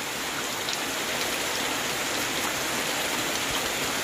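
Heavy rain falls during a nighttime storm, a constant dense hiss of drops hitting surfaces with no breaks, steady and fairly loud throughout.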